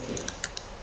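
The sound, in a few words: typing on a computer keyboard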